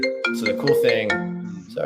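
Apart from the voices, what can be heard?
mobile phone ringtone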